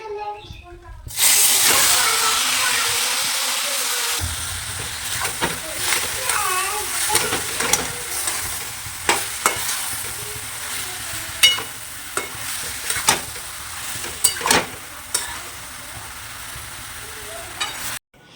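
Bay leaf, dried chilli and panch phoron crackle and sizzle in hot oil for paneer curry, a steady bright hiss with scattered pops and utensil clinks, close and loud with some talk over it.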